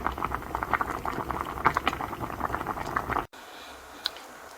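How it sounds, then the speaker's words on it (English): Vitamin C drink bubbling at a steady boil in a pot over medium heat, a dense close patter of popping bubbles that stops abruptly near the end, leaving near silence with one faint click. "we're going to put it on a medium fire, and we're going to boil everything until the skin is nice and soft"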